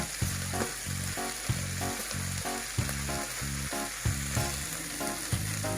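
Croquette filling of garlic, celery and carrot frying in a pan, with a steady close sizzle and a rhythmic series of spatula scrapes and taps as the mixture is stirred.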